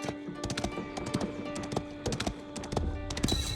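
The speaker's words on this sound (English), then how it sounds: "With each gallop of his horse's hooves, more of Guillaume's land was revealed to him." Rapid, rhythmic hoofbeats clatter steadily up close in Age of Empires IV, a galloping horse with crisp repeated clip-clop strikes.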